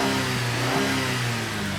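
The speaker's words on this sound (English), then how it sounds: "The engine is running right now." A GMC Acadia engine runs steadily while throwing lean and cylinder misfire fault codes, a close, loud mid-pitched drone with a slight uneven wobble throughout the short stretch.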